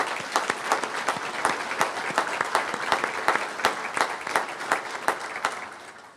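A crowd at a 2017 public safety award ceremony in Carroll County applauds public safety workers, with dense, steady clapping close by that carries on for several seconds before tapering at the end.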